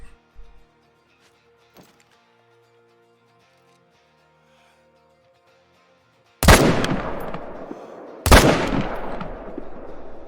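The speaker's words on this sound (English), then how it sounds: "we made a double lung heart shot with the M1" Two loud rifle shots from an M1 in the hunting game Call of the Wild crack out about two seconds apart, each echoing and fading. Quiet ambient sounds and faint ticks come before them.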